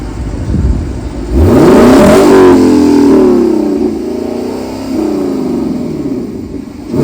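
A Lexus LC500 V8 engine idling, then blipped into a loud rev that rises and falls, followed by a second smaller rev before settling back to idle, close and loud.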